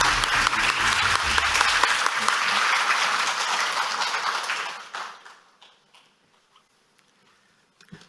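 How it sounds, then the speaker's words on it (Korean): An audience at a lecture hall welcomes a mathematics lecturer with loud, sustained clapping that fades after about five seconds into a few scattered last claps and then quiet. "김영훈 교수님을 큰 박수로 맞이해 주시기 바랍니다."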